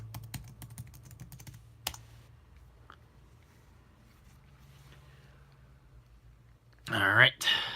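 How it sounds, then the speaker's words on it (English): Someone types a password on a computer keyboard during a macOS Mojave setup, producing a quick run of light close key clicks, followed by quiet room tone and a brief talking voice at the end. "let me punch in my password"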